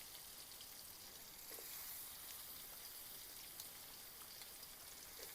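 Drumstick stalks frying in a pan with carrot and potato, a faint, even crackling sizzle that runs steadily with a few soft pops, no voices.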